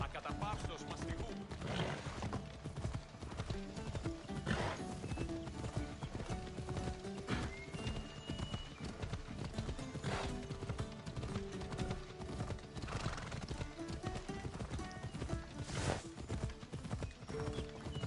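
Steady clip-clopping hooves trot on continuously, with occasional whinnies and creaking mechanical sounds layered over a busy game-like background, from Assassin's Creed Odyssey gameplay.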